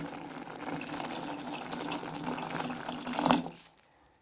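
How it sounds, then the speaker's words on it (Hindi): Half a glass of water is poured into mustard greens saag cooking in a pan, a close, steady splashing pour lasting a few seconds that swells briefly before stopping. "अब इसके अंदर मैं आधा गिलास पानी का ऐड करती हूँ"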